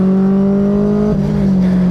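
Mazda Global MX5 Cup race car engine pulling hard and loud, its steady droning pitch climbing, then dropping sharply at a gear change before rising again, with continuous wind and road noise behind it.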